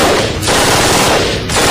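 Dense bursts of automatic fire from modern Israeli-designed assault rifles, loud and continuous with a short lull midway, no voices.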